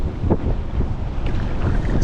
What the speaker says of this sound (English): I think this is pretty windy